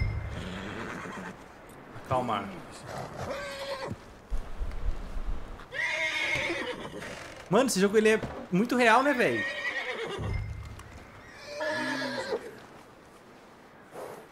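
A horse whinnies and snorts repeatedly amid clopping hooves in Red Dead Redemption 2, while someone talks casually over the game sounds.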